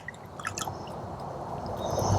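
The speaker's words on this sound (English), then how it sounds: "we'll just pour water all over it" Water poured from a bucket over non-toxic solid fuel in a folding camp stove, a steady wet splashing and gurgling that swells slightly toward the end, close and moderately loud.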